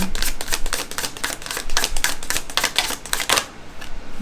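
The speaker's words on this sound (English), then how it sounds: "I feel called to shuffle one more time for this one" A deck of cards is shuffled in quick, rapid riffling bursts, a dense clicking patter lasting a few seconds before stopping abruptly, with no talking.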